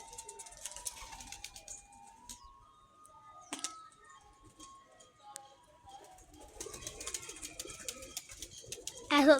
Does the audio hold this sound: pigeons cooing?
yes